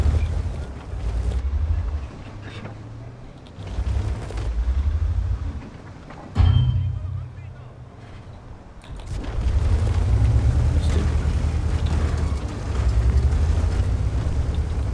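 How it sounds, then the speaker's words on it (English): A high-explosive shell bursts in a tank battle game, a sudden loud boom around the middle that fades out, with heavy low rumbling and engine-like drone swelling before and after. "An HE shell."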